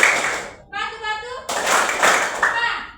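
Children playing the tepuk batu clapping game in class, with dense bursts of many hands clapping together close by and a brief spoken chant between the claps.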